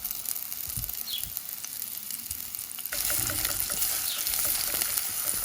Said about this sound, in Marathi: कांदो बरो भाजून घेवया.